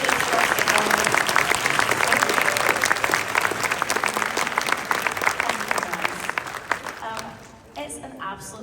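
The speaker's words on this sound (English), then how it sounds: "A round of applause for the fantastic performance." Sustained applause from an audience at a fan expo Q&A panel, loud and dense for most of the stretch, then fading away near the end.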